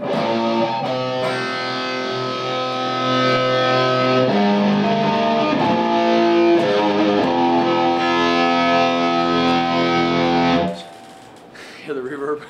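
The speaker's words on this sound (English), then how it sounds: "So this thing also has reverb, which is interesting for kind of an amp more on the metal side." Electric guitar played through a PRS CAD amplifier with its built-in reverb, a metal-leaning amp: sustained chords and notes ring out with a washy tail, then stop abruptly near the end, leaving a brief rustle.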